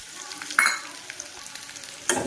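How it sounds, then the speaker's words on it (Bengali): Mango pickle is stirred with spices in a frying pan: a soft background sizzle with two sharp scraping bursts from the spatula. "এবার একটু ভালো করে নাড়াচাড়া করে নেবো।"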